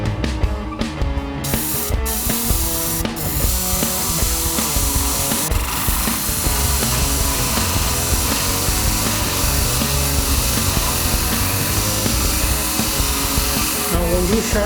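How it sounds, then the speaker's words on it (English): A sharpening machine's wheel grinds a shear blade up close, a continuous harsh, rasping whir with small shifts in pitch as the blade is worked against the spinning wheel. "When you sharpen it, try to point to the center of the wheel."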